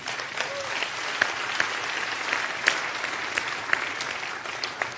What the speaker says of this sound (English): You want to clap? Clap.